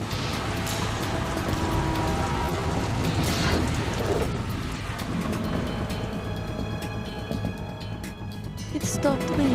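Steady rain hisses on surfaces in a PS2 video game, a dense wash of noise that runs throughout with low rumbles beneath and a voice talking over it.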